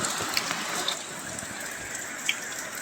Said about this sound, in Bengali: দেখো কত জোরে বৃষ্টি এসছে, দেখো অতিরিক্ত জোরে হচ্ছে বৃষ্টিটা